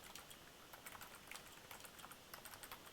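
Faint, steady keyboard typing with a continuous patter of light clicks running throughout, quiet and somewhat distant under a hiss of background noise, with no one talking.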